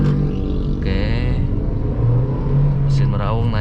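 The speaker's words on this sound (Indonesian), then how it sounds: "mesin meraung naik ke G2" A Honda Mobilio's engine roars as revs climb while the driver pulls away on a hill and shifts into second gear. The rumble is steady and close inside the cabin, with brief clicks and a rising whine near the end.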